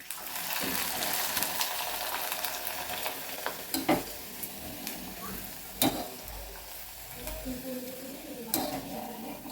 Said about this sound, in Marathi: बघा किती छान फुलताय पापड दाखवते जवळ तेल चांगलं तापलेलं पाहिजे